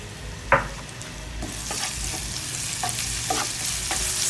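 Chili and pounded garlic stir-fried in a pan for spicy mushroom with basil: a sharp utensil knock, then a steady close sizzle with scattered scraping stirs and clinks, no voices.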